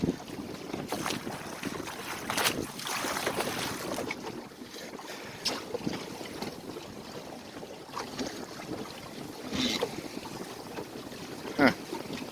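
Wind rushes past while a 14-foot motor/sailor boat moves under sail, a steady airy wash with gusty buffeting against the microphone and faint water sounds.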